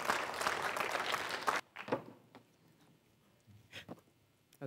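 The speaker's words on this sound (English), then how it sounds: "Please give her a warm round of applause." An audience applauds warmly in a burst of clapping that stops abruptly, leaving a few scattered claps and quiet room noise.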